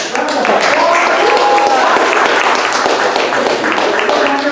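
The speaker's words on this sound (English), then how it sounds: "let's just give our new board members a round of applause" An audience claps for new board members, a continuous round of applause filling the room while voices carry on over it.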